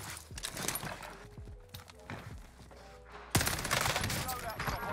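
Rapid gunfire in Warzone on Rebirth Island, including AS44 rifle bursts, dense overlapping shots and clattering effects that swell louder near the end, with game voice lines in the background.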